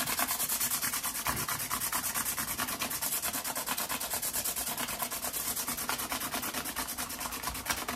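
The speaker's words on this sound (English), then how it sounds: "use sandpaper to finally totally round them" Sandpaper rubbed back and forth over the frets of a 1950s Musima Emperor guitar, a fast, even scratching rhythm, close and continuous with no voices.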